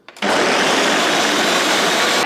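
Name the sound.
blender blending lemon and ginger with water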